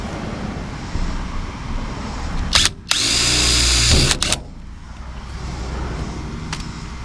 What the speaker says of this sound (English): That drill's a little bit small, so I'm going to find a little bit bigger drill and open these up a little.